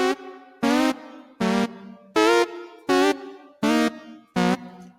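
Seven short, bright keyboard synth tones sound alone in a bouncy bleep-bleep-whoop rhythm, each with a slight upward scoop, imitating retro Final Fantasy VI game music.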